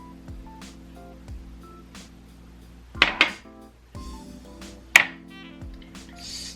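A spoon stirring sugar into deviled egg filling in a bowl, scraping softly with a few sharp clinks against the dish, over a low steady hum.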